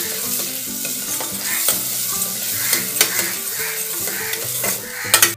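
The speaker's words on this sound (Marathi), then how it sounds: "हे सर्व मिश्रण चांगलं असं तेलावर परतवून घ्यायचं आहे" A spice mixture of chilli powder, a small lump of jaggery and a pinch of garam masala is sautéed in oil, with busy stirring scrapes, spoon clinks against the pan and a steady close sizzle, free of voices.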